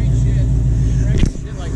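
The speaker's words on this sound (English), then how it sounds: "We are not supposed to be revving here." At a car meet, a car with long-tube headers idles and revs up loudly and close by with a deep engine roar, then drops back. Voices talk over it.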